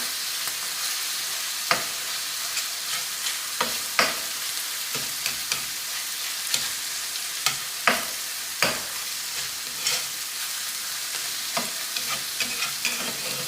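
Mushrooms sautéing in a pan, a pound of them cooked down for chicken Marsala, with a steady soft sizzle broken by scattered clicks and scrapes of stirring, close and moderately quiet with no talking.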